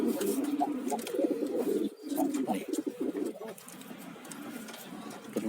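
Pigeon cooing close by, a steady run of low, rolling coos with soft bird calls mixed in, the bird recovering from a cough and cold.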